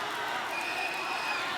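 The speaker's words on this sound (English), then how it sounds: "the student section storms the floor" A student section crowd storming the basketball court after a high school sub-state championship game, a steady, dense roar of cheering and shouting voices that fills the whole moment.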